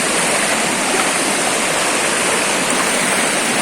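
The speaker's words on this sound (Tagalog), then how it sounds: "Medyo malakas nga lang ang agos." Loud, steady rushing of a fast-flowing river current fills the whole stretch, a dense unbroken roar with no voices.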